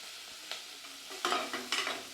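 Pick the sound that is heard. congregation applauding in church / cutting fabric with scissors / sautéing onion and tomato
sautéing onion and tomato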